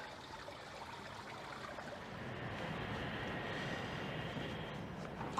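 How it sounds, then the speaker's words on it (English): Water flows down the side of an outdoor water feature in a city setting, a steady, moderately faint hiss of rushing water that builds slightly and continues without pause, with no voices. "It looks like it flows off to infinity and all the water flows down the side."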